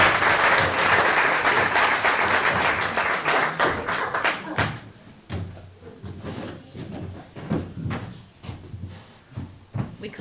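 Dense audience applause at a youth theatre celebration that thins out after a few seconds into scattered, separate claps and thumps.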